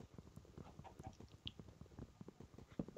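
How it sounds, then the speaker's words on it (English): Minecraft chickens cluck softly in the game world, giving quiet, scattered, short clucks and clicks spread across the stretch at a low level. "There's a lot of chickens about"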